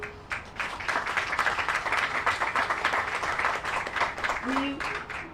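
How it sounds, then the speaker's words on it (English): Audience at an outdoor groundbreaking ceremony in a redevelopment district applauding, steady moderate clapping that swells and holds for several seconds, faint voices beneath. "He definitely deserves a round of applause."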